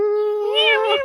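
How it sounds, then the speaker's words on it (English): A single drawn-out cat meow, close and fairly loud, with a steady tone that rises slightly in pitch before fading, lasting about a second on its own. "The cat better start meowing."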